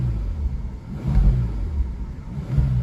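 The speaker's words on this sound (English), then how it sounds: "I'll rev the engine so you can hear that a bit" A 2021 Bentley Continental GT's W12 engine revs nearby with a low, smooth rumble that swells in two or three gentle surges over a steady idle.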